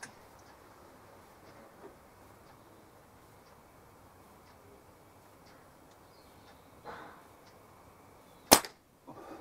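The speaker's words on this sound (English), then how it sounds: "Last shot." A single sharp crack from a CP2 pistol firing the last shot at a target, near and loud after a quiet stretch, with no talk.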